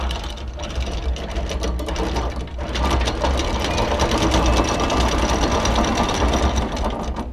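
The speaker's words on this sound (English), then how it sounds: "For the first few meters, when you are taking the anchor down, you need to go slow in order for the anchor to go down smoothly." Anchor winch on a Beneteau Oceanis 45 sailing yacht lowering the anchor chain, a loud continuous mechanical whirring and rattling drone, close by and steady throughout.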